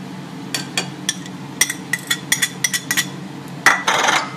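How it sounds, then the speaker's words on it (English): A spoon clinking against a bowl while stirring Dijon mustard with garlic, stevia and black pepper: quick, irregular metallic taps close by, ending in a brief scraping swirl, with no talking. "And stir it to mix well."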